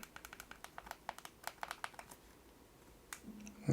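Rapid, light clicks of keys being typed on the small built-in QWERTY keyboard of an RG Rotate handheld Android game console, in quick irregular bursts that slow and pause near the end, close and quiet.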